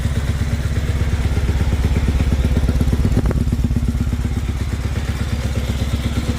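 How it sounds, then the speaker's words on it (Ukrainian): A Zongshen ZS200GS 200cc motorcycle engine idles up close outdoors at minus 9°C, with a steady, rapid putter and a light mechanical clatter, continuous and even throughout. "Слухаємо двигун. Як чуємо, жодних сторонніх шумів нема."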